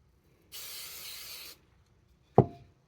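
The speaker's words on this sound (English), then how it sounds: "And then a little hairspray." Hairspray hisses from a can onto hair in one steady burst of about a second, followed after a short gap by a sharp knock, quiet and close with no talking.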